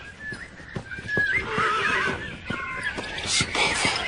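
A horse in a French film neighs and whinnies loudly and close, several rising calls over rustling and hoof movement.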